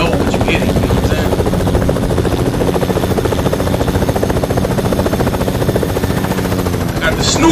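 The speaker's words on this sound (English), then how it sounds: "I got the Snoop Copter, baby." Snoop Copter helicopter in the Fortnite video game, a loud continuous rotor drone with rapid buzzing chop that persists throughout at close range.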